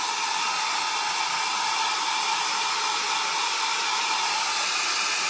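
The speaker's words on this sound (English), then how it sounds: "It was just a hair dryer." A hair dryer blows steadily at close range, a loud, constant rushing whoosh of air with no pauses.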